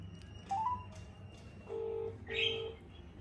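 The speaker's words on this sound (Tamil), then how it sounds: "இப்போ நம்ம வந்து திவ்யாவுக்கு கால் பண்ண போகிறோம்." Phone dialing tones from a mobile call being placed, several distinct beeps in sequence, including a couple of sustained steady tones, fairly close and clear over a quiet background.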